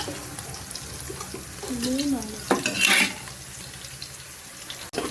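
Garlic tempering sizzles in hot oil in a pan while being stirred, with scraping stir strokes and a louder burst of frying near the end; a brief voice murmurs partway through.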